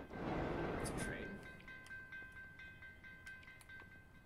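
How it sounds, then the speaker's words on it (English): A train in the video game Assassin's Creed Chronicles Russia rumbles loudly and then fades, leaving thin metallic clicks and a faint high tone, with soft talk over it. "It's a train."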